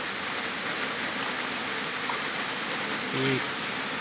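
Rain falls steadily as a constant broadband hiss and patter, with a brief voice heard near the end.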